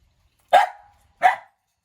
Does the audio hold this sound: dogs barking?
yes